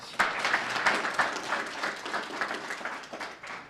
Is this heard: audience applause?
yes